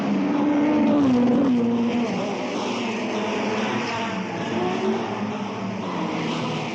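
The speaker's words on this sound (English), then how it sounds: "You can feel the tension in the air as the cars rev up to the starting line." Race cars at the Monte Carlo Grand Prix rev their engines on the starting line, a sustained, rising and falling mechanical roar with shifting pitch, loud and continuous throughout.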